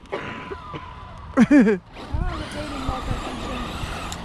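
Traxxas X-Maxx, Maxx, E-Revo and Mini E-Revo radio-controlled cars drifting around a ball, with brief loud tire skids and squeals over motor whine and rolling noise, and voices in the background.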